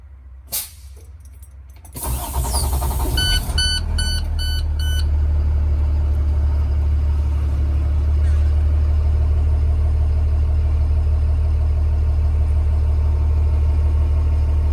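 A 2021 IC CE with 1,392 miles cranks and fires up after a short quiet pause, a few electronic chime beeps sound just after start, and the engine settles into a loud, steady, even idle.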